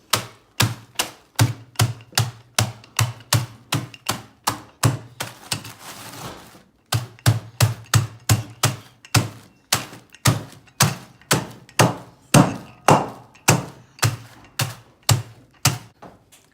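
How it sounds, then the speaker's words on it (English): Graham cracker squares being crushed in a steady series of sharp, crunchy cracks, roughly two per second, close and distinct, with a short scraping pause partway through before the rhythmic crunching resumes. "you have to take 32 squares of graham crackers. A square is half of a full graham cracker. And then crush them."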